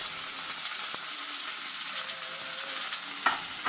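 Green chillies, garlic and onion fry in hot oil with a dense, steady sizzle, close up, and an occasional small clink of a utensil near the end.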